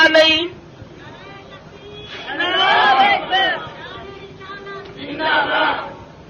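Crowd at a religious gathering chanting slogans in loud collective bursts, with a short shout at the start, a long swell in the middle and another near the end, separated by quieter murmuring.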